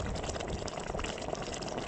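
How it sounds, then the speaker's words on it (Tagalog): Seawater bubbling and churning at low tide in a naturally boiling sea at Sitio Parong, Pawa, Manito, Albay, Philippines; a steady, dense, close gurgling wash fills the whole stretch with no talk. "talagang kumukulo ito at kitang-kita tuwing low tide"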